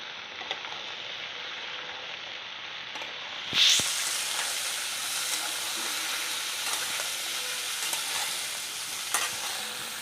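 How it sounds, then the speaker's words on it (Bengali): Ash gourd pieces sizzle and fry in hot oil while being stirred, a steady close hiss with a sharp clatter of the utensil near the start and occasional scraping. "ডিরেক্ট আমি এখানে দিয়ে দিলাম তেলের মধ্যে এবার আমি চালকুমড়োটাকে ভালো করে ঘেটে নেব"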